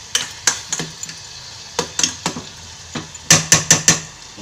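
A spoon stirs bottle gourd frying in ghee in a metal pan, with sharp close scrapes and clinks in an irregular rhythm and a quick run of four louder knocks near the end, over faint background sizzle.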